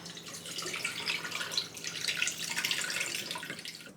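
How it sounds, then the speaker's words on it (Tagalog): Tap water runs steadily, a soft continuous hiss and splash at a kitchen sink while rice is rinsed for cooking, fairly faint and without speech. "Nahugasan na po ni Jiro, mga kasimple, yung ating sinaing."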